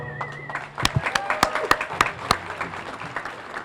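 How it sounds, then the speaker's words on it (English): An outdoor crowd at a Cape Verdean flag raising ceremony gives a round of applause: scattered claps with several sharp, loud individual hits, mixed with voices and a brief whistle-like tone. "You give him another round of applause"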